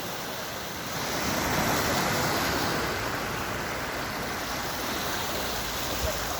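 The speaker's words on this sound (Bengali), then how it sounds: "এই যে বান, এই যে দেখুন" A tidal bore surging up a river sounds as a broad, steady roar of rushing water that swells after the first second and then holds, with no voices over it.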